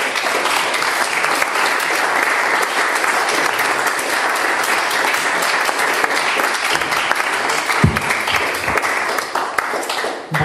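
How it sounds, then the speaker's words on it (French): A lecture audience bursts into loud, sustained applause after a talk on experiencing otherness and living together, dense clapping from many hands filling the room for the full stretch, with a brief voice near the end. "Je crois que les applaudissements étaient nourris et surtout sincères"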